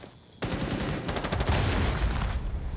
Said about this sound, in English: Gunfire going down onto the player behind the shield as Just Toby peeks around to try to help his